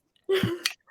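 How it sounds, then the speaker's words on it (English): A single short, close cough from a person eating a cookie bursts out of near silence and ends within half a second. "I coughed. I'm eating a cookie."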